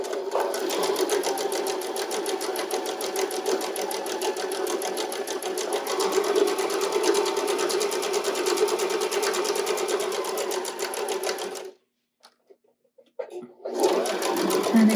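Domestic sewing machine stitching cotton face mask fabric, running a steady, continuous buzzing whir for about twelve seconds, stopping abruptly, then starting again briefly in short bursts as it reverses to lock the stitch.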